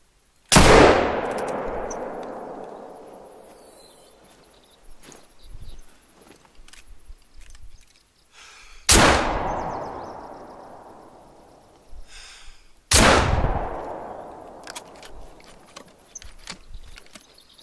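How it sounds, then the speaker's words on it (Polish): Three loud, sharp video game hunting gunshots ring out several seconds apart, each booming and decaying slowly, with faint clicks and shuffling between them. "Dobra, biorę chudzika i strzelam z tej armaty"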